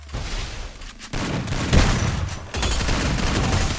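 Gunfire rattles in a Free Fire battle-royale match, loud close bursts of rapid shots broken by short pauses, with a heavy boom partway through and renewed firing afterward.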